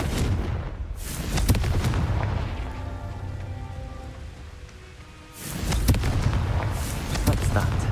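In the Hogwarts Legacy game, the Confringo fire-blast spell goes off as a loud, crackling burst over a rumbling, rain-like noise bed, which fades into a quieter spell and then swells back into crackling.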